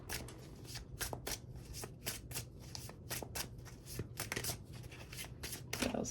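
Tarot cards are shuffled by hand in a steady run of quick, crisp riffling bursts, close and fairly quiet, with no voices.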